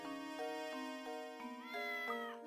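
Claudia the cat meowing in the video game Professor Layton and the Curious Village: a short run of loud, tonal, pitch-bending meows, one after another, with no talking.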